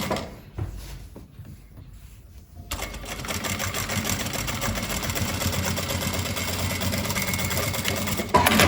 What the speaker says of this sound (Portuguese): Agora, nós vamos fazer o pesponto do bolso aqui na reta.